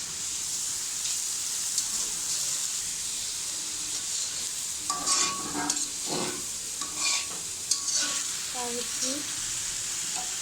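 Ginger-garlic paste, cardamom, cinnamon, cloves and bay leaf sizzle steadily in oil for tehari, with stirring scrapes and clinks growing busier partway through.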